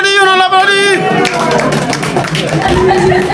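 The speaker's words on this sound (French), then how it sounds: "On applaudit, on applaudit, on applaudit." Wedding guests break into applause, a dense wash of many hands clapping together in a crowded room, with a voice speaking over the start before the clapping carries on steadily to the end.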